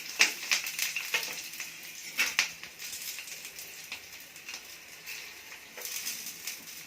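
Hot oil sizzles and crackles in a pan during home cooking, with a steady frying hiss and sharp pops bursting out near the start and again past the two-second mark, close and fairly quiet, with no talking.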